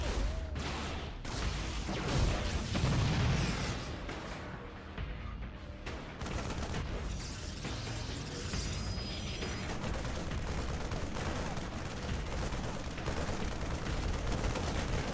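Units in a StarCraft II match fire at probes, a dense, continuous clatter of weapon shots and impacts with bursts of crunching hits, loud and busy over a low rumbling game soundscape.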